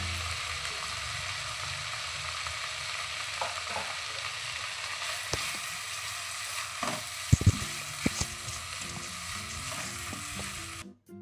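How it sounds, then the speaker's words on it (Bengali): Ginger garlic paste sizzles and fries in a pan while being stirred, a steady low crackle with scattered scraping and clinking knocks from the spoon against the pan, ending abruptly. "এতে আদা রসুন বাটা দিয়ে হালকা নাড়াচাড়া করে নেব।"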